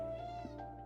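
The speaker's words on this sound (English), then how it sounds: "Oh, you're such a meow cat." A house cat meows once, a drawn-out, close and clear cry lasting under a second with no other sound around it.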